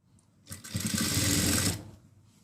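A sewing machine stitching salwar fabric, one continuous whirring run of about a second and a half with a soft start and stop, close and clear.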